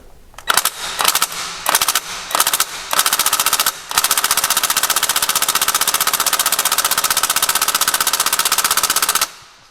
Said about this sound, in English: I'm going to go for the lightest setting on a ratchet gun